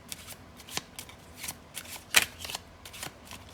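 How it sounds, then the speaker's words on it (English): Cards are riffled and shuffled repeatedly, crisp flutters and taps close by, with one sharp louder riffle partway through. "A couple of riffle shuffles and a couple of overhand shuffles."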